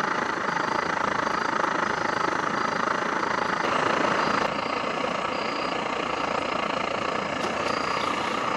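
An Optimus SVEA 123 camp stove burning wide open under a Comet coffee percolator gives a steady, loud, close roar with a fluttering helicopter-like quality, nearly unchanged throughout.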